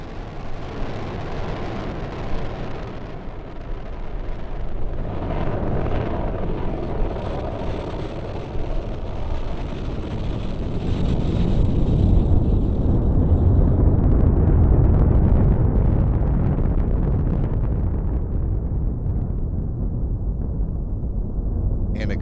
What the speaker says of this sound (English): And a good liftoff of the Falcon 9 rocket to begin the SPHEREx PUNCH rideshare missions.